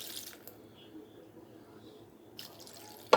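Cold water trickles and drips into a pouch of freeze-dried Japanese-style golden chicken curry, a soft, faint, steady pour at close range, with a sharper splash near the end.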